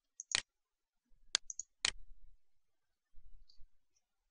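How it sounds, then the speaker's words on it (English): A computer mouse clicks a few times at a desk while saving a file in Solid Edge CAD software, sharp isolated clicks spaced a second or so apart with soft handling sounds between them, quiet and close. "So you'd click on this application button and click save or save as"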